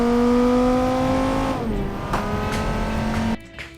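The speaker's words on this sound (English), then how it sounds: "There certainly is a little bit of backfire here and there." Sports car engine from the game Automation revving hard as it accelerates, pitch climbing then dropping at a shift, with sharp backfire pops scattered through; loud and close, no talking.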